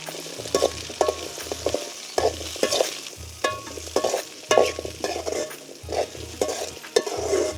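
Onions and tomato sauté in oil in a pan for a Tamil Nadu style chicken kulambu. The sizzle is stirred over and over, with rhythmic scraping strokes repeating throughout.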